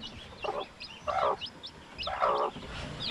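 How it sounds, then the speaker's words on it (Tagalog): Chicken chicks peep in short high chirps scattered across a few seconds, close and fairly faint, with a few lower clucking bursts mixed in. "Yung sisiw natin oh."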